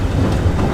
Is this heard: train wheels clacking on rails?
yes